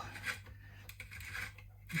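A stepped drill bit is turned slowly by hand into a PRS SE guitar body, making a quiet, close rasping grind in short uneven strokes with no talk.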